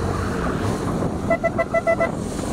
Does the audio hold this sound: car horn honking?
yes